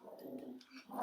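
A dog gives a short, low growl that rises into a brief louder grumble at the end, fairly close and alone without talk.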